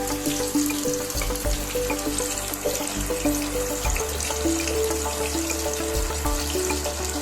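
Goat spleens with gravy fry in hot oil in a pan, giving a loud, continuous sizzle and crackle close up with no talking.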